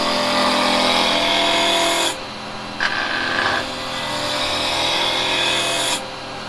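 An SK114 6mm hollower cuts wood on a lathe with a loud, continuous scraping hiss, broken by brief drops in level as the tool comes off and re-engages the spinning workpiece.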